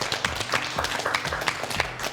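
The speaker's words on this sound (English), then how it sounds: "Give them a big round of applause." Steady applause from a quiz show audience, dense clapping that carries on without a break.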